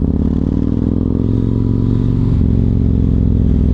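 A Yamaha MT-01 motorcycle's aftermarket exhaust revs loudly and steadily up close, a deep throbbing rumble that holds throughout with a slight shift in pitch near the end.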